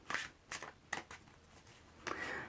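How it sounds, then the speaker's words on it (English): Tarot cards are shuffled close by in quiet bursts, four or so short riffling flurries spaced about half a second apart, faint and with no talking. "So give these a good shuffle."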